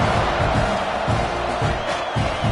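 Stadium crowd cheering at a football game, a dense, continuous roar of many voices with no break, loud and steady throughout.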